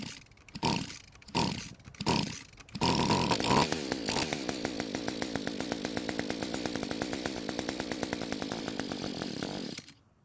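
An Echo string trimmer with a fuel leak is pulled several times, sputters briefly, then catches and runs at a steady high buzzing idle for several seconds before cutting off abruptly; loud and close.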